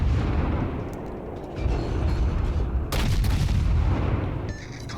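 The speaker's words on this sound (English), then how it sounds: "So Kane starts dumping shots into the Arp Miyoko while it's broadside" Warship guns in World of Warships boom out in heavy naval salvos, deep rumbling blasts with a sharp, loud volley near the middle, over a constant low roar of battle.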